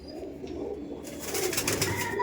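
Karandar pigeons coo in a loft, a soft low repeated cooing heard close by, joined partway through by brighter broadband rustling and other bird noise.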